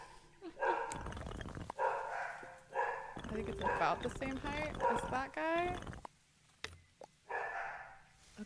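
Dogs in the cozy building game Tiny Glade let out repeated yips and whiny barks in several bursts, mixed in with a person talking.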